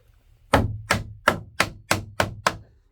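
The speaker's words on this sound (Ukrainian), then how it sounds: "Так, візьмемо молоточка." Seven sharp small-hammer taps on a wooden door being assembled, evenly spaced and close up, each a crisp knock with a short ring.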